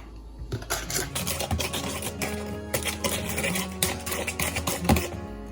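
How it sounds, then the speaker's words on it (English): A bigger whisk mixes flour and dry ingredients into a doughy batter in a home kitchen, giving a steady run of rapid clicking and scraping strokes against the bowl, close and fairly loud, with no talking. "I have my bigger whisk this time. So let's add that in. And let's mix it up."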